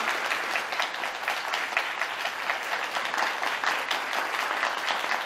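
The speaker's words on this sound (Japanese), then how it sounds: "皆様盛大な拍手をお願いいたします。" An audience at a ceremony in Japan, where a replica key to a Nissan GT-R police car is handed over, breaks into sustained applause, a dense, even wash of clapping that carries on steadily throughout with no talking.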